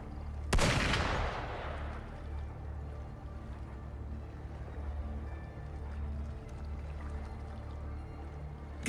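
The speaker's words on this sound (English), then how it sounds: "Gunfire! We've got intruders." A single loud gunshot cracks out sharply in the Wuthering Waves video game, then rolls into a long reverberant tail over a steady low rumble of background ambience, with no voices.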